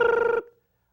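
A telephone rings once, close and loud, with a steady electronic bell tone that cuts off abruptly and falls silent.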